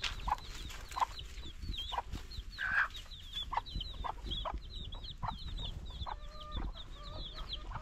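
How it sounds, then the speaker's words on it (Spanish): A hen with her chicks forages for food in the countryside, giving soft, regular clucks while the chicks keep up a continuous high peeping throughout, with faint outdoor ambience. "A la gallina con los pollitos."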